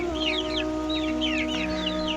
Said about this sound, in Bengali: এই দেখেন টাইগার মুরগিগুলো,